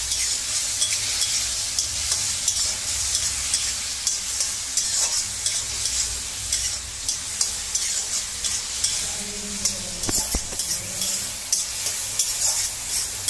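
Prawns being sautéed and stirred in a pan for a prawn and cauliflower gravy: a steady, close sizzle of frying runs throughout, broken by scraping stirs and small clinks, with no talking.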